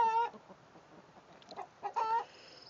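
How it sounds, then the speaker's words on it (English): A hen that has just laid an egg clucks loudly in two bursts of drawn-out, rising cackles with a pause between, the calls close and clear over quiet surroundings. "And one of the chickens in there laying an egg."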